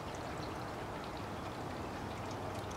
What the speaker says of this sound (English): it is raining and sleeting